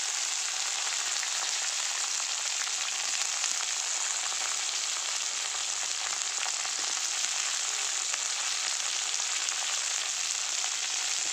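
Green chillies and curry leaves fry in a pan with a continuous bright, hissing sizzle, steady and close throughout with no voices.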